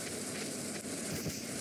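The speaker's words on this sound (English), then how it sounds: "if we plant them today, we won't need to water them because it's raining" Rain in the farming video game Stardew Valley falls as a steady, even hiss throughout, with no voices over it.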